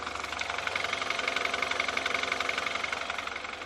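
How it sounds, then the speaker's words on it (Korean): A BMW 5 Series gasoline engine idles steadily and quietly nearby, a smooth, even hum with a fine rhythmic pulse and no voices. "엔진 컨디션도 휘발유 엔진답게 정말 정숙한 모습"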